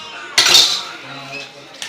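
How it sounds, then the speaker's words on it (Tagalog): A metal spoon clinks and scrapes against a container while stirring sugar into a sweetened watermelon drink, one loud close scrape that fades, then a lighter tap. "Haluin ng haluin hanggang sa matunaw ang sugar."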